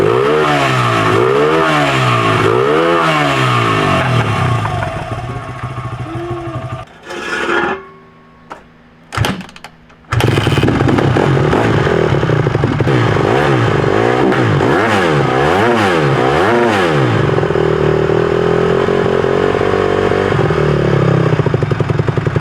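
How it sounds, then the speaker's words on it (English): Honda motorcycle engine cranked on the electric starter, catching and revving in loud repeated swells, dropping briefly to near silence with a few clicks and bursts before roaring back into sustained throttle blips; no talking. "This bike's electric start right here, so it's easy to crank up."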